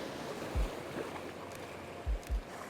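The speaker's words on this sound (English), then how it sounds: "we get a bit of the water splashing" Water splashes near a portrait shoot outdoors, with a steady wash of surf-like rushing water and a few low thumping bursts of spray and wind buffeting the microphone.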